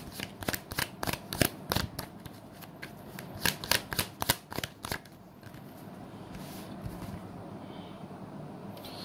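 A tarot deck is shuffled in quick riffling bursts of crisp card flicks. The shuffling then settles into a softer, steady rustle as one card is drawn.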